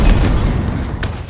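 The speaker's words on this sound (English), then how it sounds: "throw the dynamo grenade, the shock grenade, and that will shock and freeze suiciding grunts as well" A shock grenade detonates in Halo Infinite, a loud, dense electrical burst with a short crackle near the end, heard alone at close range.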